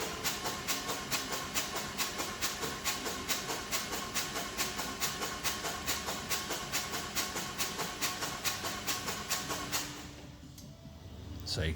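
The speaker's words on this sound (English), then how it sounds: "I'm just cranking the engine over and over just to build oil pressure to basically purge that feed line of air" A Harley-Davidson 135ci turbo engine on a Lowrider ST cranks over steadily on its starter, each compression stroke giving an even rhythmic pulse for about ten seconds before it stops.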